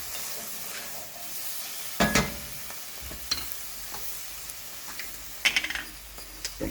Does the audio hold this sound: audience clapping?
no